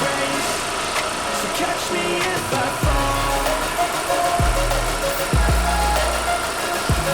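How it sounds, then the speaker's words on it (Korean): An Audi A6 (C8) 45 TFSI quattro engine idles with a steady, even hum at close range with the engine bay open, a few low knocks and rattles standing out over the drone. "엔진 소리 일정합니다."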